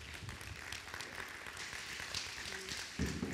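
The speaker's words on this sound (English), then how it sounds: "Everyone give him a round of applause." Faint, continuous applause fills a worship service as a band member is welcomed, a soft, steady wash of many hands heard from a distance.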